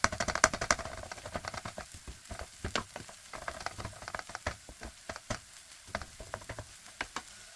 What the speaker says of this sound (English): Let it pan fry and keep mixing it up until we get the right level of crispiness.